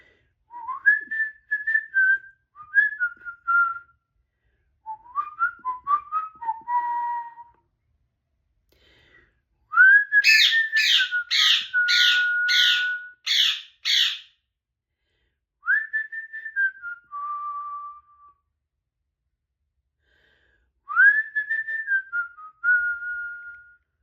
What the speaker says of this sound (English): I whistle better than you